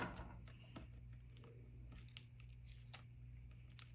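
Scissors snip through paper to cut out flowers, giving a string of faint, quick cuts and crisp rustles over a steady low hum.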